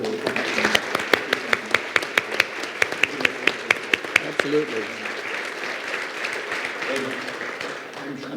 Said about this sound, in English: I'd like to raise applause for the most incredible contributions.